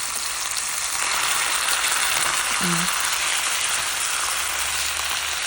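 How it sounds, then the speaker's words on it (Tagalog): Ground beef sautés in a pan after onions have been fried, producing a loud, continuous, close sizzle with a faint brief tone partway through. "Pagkatapos nyo nagisa, edi ilagay na yung ground beef."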